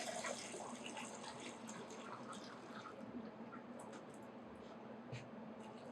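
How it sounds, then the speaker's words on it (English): Hot water pours steadily into a pot of parsnips, a soft continuous splashing rush with a few small clinks, heard fairly close and without talk. "And now we're going to add some hot water."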